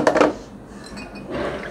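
A spoon clinks against a bowl while golgappa sour water ingredients are stirred together, a brief burst of clinking at the start followed by softer swirling and scraping, close and alone.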